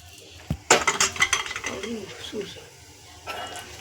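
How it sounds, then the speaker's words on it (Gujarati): Dry Maggi noodles going into a metal pot in a home kitchen, a sharp knock followed by a quick run of clinks and rattles, then quieter scraping, with a voice talking alongside. "હવે નાખી દઈએ આપણે મેગી"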